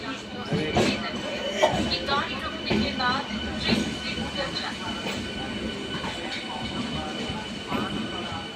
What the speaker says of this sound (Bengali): তো ট্রেনে উঠে পড়েছি